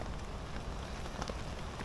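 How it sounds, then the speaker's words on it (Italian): Rain falls steadily around a tent at a campsite, a soft continuous patter and hiss with scattered individual drops, fairly faint and uninterrupted. "È da ore e ore e ore che ormai piove"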